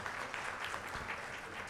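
An audience at a poetry open-mic awards event applauds steadily to welcome a guest onto the stage, dense, continuous clapping from a crowd with no voices over it.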